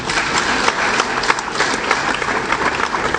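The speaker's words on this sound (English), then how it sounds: "I thought you would clap for him." Steady, dense applause from a seated audience at a ministerial agriculture presentation, many hands clapping at once, close and loud throughout.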